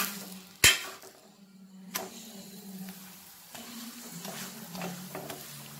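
A radish paratha fries on a hot pan with a steady low sizzle, a sharp clatter near the start and a few soft knocks as it is handled, with no talking.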